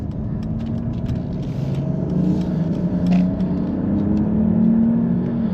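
A steady low engine drone and road rumble inside a moving 2020 Mercedes-Benz GLS 450 4Matic, the hum swelling slightly as the hybrid system smoothly restarts the engine.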